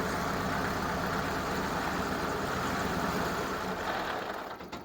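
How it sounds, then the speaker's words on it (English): CUCV 6.2 diesel engine with its injection pump run dry, a rough steady running rumble that rises briefly, then fades and cuts out near the end. "It revved up a little bit and then it died."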